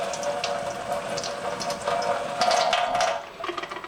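Tap water runs steadily while a play doll's head is rinsed, a continuous close splashing gush that shifts and thins toward the end.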